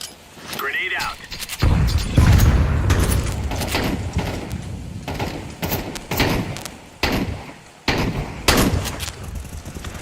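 Grenade blast and bursts of gunfire in a tactical shooter video game, with loud booms and crackling shots layered over steady talking and background game noise.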